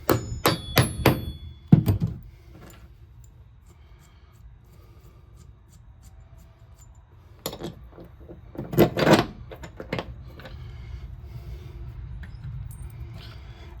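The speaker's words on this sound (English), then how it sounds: "get the hammer out" Hammering while hauling hogs, a quick cluster of sharp, close metallic knocks and thuds at the start, a quiet gap, then another burst of several strikes and clunks.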